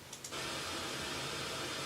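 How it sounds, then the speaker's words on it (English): A steady, broadband hiss of pink noise starts abruptly and continues evenly, soft and constant with no variation. "you type in pink and it's like comes up as pink noise gen"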